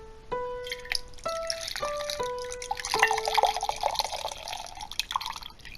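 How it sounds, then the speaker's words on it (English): A drink poured into a glass gives a rising, bubbling trickle, the pitch climbing steadily as the vessel fills, close and fairly clear over several seconds with no voices. "Just had to pour a drink here."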